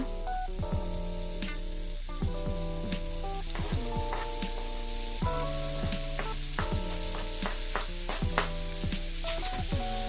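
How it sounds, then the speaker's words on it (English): Onions and garlic sauté in a pot for goulash soup with a loud, steady sizzle and frying crackle. Repeated stirring scrapes and clinks run through it. No voices are heard. "So I'm going to add these in now"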